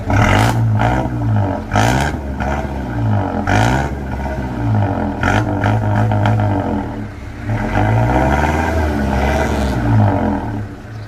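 A six-wheel dump truck's diesel engine revs hard and loud close by in repeated surges, rising and falling several times with a rough roar and clatter, with no talk over it.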